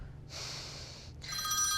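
A telephone rings in a Turkish TV comedy scene: a hiss-like burst, a short pause, then a brighter electronic ringtone returns louder, with no talk over it.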